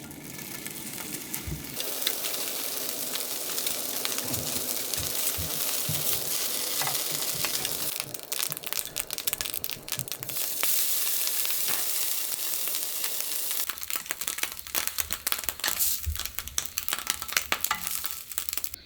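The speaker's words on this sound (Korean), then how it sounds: "팬에다가 슬라이스 햄을 살짝만 구울 거예요" Sliced ham, cut in half, frying briefly in a pan for folded gimbap, giving a steady broadband sizzle throughout with faint clinks and shifting crackle, no talking.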